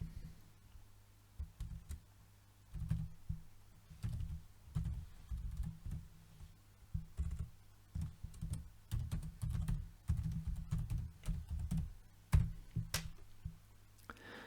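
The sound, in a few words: typing text on a computer keyboard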